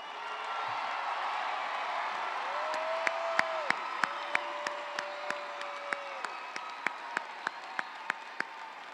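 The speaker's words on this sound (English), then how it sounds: "Can we give our graduates one more big round of applause?" A high school graduation audience claps in a broad, fairly distant wash of applause, with a few sharp nearby claps standing out and a low tone humming through the middle.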